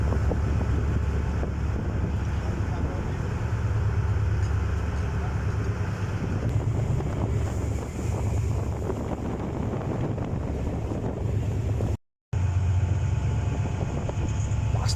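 Strong wind buffets the microphone aboard the ship BRP Francisco Dago on a rough sea passage to Pag-asa Island, Palawan, with steady low engine and wave rumble throughout and a brief dropout near the end.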